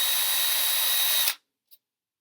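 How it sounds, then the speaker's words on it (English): A drill bit bores into a hard foam block with a steady high whine for just over a second, then stops abruptly, followed by a faint tick. "I'm going to put my drill bit against my hard block of foam"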